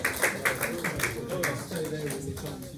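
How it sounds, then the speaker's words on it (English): An audience claps loosely and unevenly after being invited to applaud, with sharp irregular claps over about three seconds and some voices mixed in. "Give yourself a round of applause"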